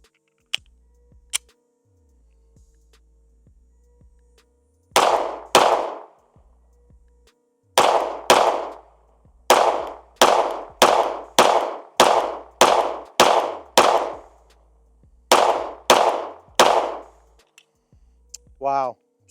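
Springfield Hellcat Pro Comp pistol firing at a range: sharp, loud, close gunshots in quick groups, one pair, a long rapid string of about ten, and a final trio, separated by quiet pauses.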